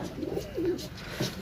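Pigeons cooing close by, three short soft throaty coos in an uneven rhythm, fairly quiet with no talking.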